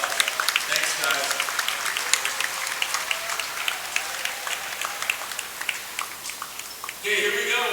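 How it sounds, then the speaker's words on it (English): Crowd applause in a school gym before a boys varsity basketball game, steady clapping from the stands with scattered sharper claps, a voice coming in near the end. "So let's give them one more round of applause."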